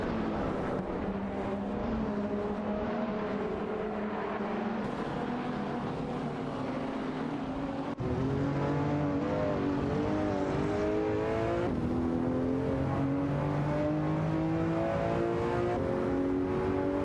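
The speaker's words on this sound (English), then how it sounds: "Racing car dashing away." A race car's engine roars continuously at close range, its pitch climbing through successive gears with brief shifts in between, loud and steady with no voices.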